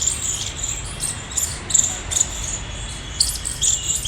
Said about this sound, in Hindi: और गिलहरी की और चिड़ियों की आवाज़ सुनो,